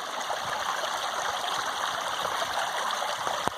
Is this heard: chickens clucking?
no